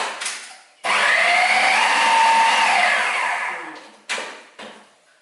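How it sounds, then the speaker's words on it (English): A kitchen blender whirs loudly and steadily for about three seconds, then winds down, followed by brief bursts of the motor. "And then we're going to put that blender on."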